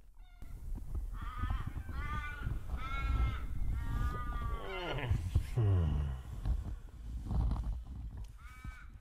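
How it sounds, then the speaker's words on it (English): A crow caws repeatedly at dawn in the Australian countryside, a series of harsh, drawn-out calls coming close and fairly loud over a low outdoor rumble. "That morning, the sound of Old Man Crow awakens me from my slumber."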